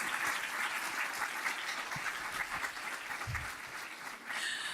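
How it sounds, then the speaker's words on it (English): Applause from the audience at an early career teaching institute address, honoring a state teacher of the year; a sustained, fairly distant patter of many hands clapping at low level throughout. "Can we hear a big round of applause for Brian?"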